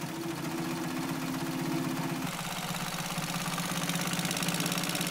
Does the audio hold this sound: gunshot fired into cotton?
no